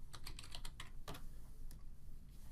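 A name being typed on a computer keyboard: a quick burst of close, crisp key clicks, then a few isolated taps and a louder keystroke, all fairly quiet with no talking.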